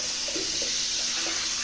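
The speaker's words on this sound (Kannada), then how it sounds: "ಇಲ್ಲೇ ನಮ್ಮ ಸಿಂಕ್ ಟ್ಯಾಪ್ ವಾಟ್ರ್" Water runs steadily from a kitchen sink tap, a close, continuous splashing rush with faint low background sounds and no talk.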